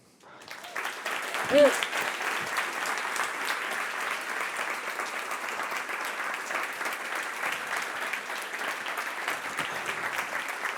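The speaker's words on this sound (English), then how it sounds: "please give a massive round of applause to Ryan as he walks on the stage tonight" Sustained applause from a large audience swells quickly and holds steady for about ten seconds, a dense even wash of clapping with a brief cheer near the start.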